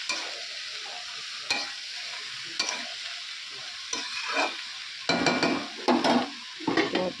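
Jackfruit and spices frying in a pan, a steady close sizzle broken by several sharp spatula scrapes and stirring bursts, louder toward the end, with no talking.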